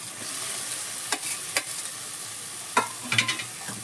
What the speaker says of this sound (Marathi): मसाला छान तळलाय तेल सोडले आता आपण हे बटाटे घालतोय वरतून